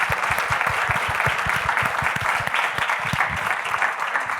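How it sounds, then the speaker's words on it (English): A room full of people applauds panelists at the close of a shopping-trends panel, the clapping loud and dense and sustained for several seconds with no pause. "Big round of applause for our panelists."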